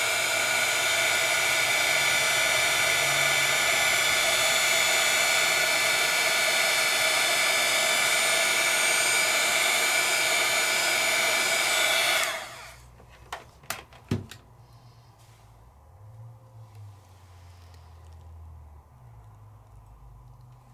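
Heat tool blowing steadily with a loud, even whoosh to melt embossing powder for a craft project, running for about twelve seconds before cutting off, followed by a few faint handling clicks and quiet room sound.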